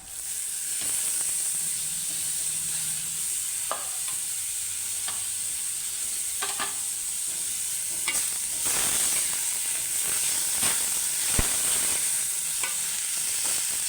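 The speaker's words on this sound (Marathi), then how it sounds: "असं परतवून घ्यायचं किती कलर छान आले आणि त्याच्यामध्ये आपण ही कोळ्या फणसाची भाजी घालते" Pieces of tender jackfruit go into a hot tempering in a pan for a Konkani-style sabji, setting off a steady, close sizzle with occasional stirring clicks and scrapes throughout.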